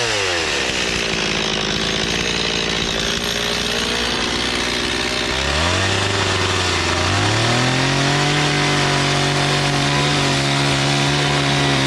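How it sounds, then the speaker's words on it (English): A loud chainsaw engine roars steadily while carving wood, its pitch dropping and rising as the chain bites in, close by throughout. "let's try our hand at chainsaw carving"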